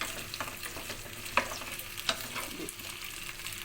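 Okra (bhindi) frying in oil, a soft steady sizzle broken by a couple of sharp utensil clacks and light stirring scrapes, with no voices.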